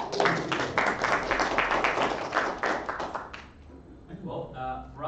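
Applause in an Anglican church service, a short burst of many hands clapping near and loud for about three seconds, then dying away into voices.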